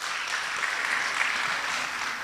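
A conference audience at a data science and artificial intelligence event applauds after a presentation, a continuous, even wash of many hands clapping at moderate distance, steady from start to finish.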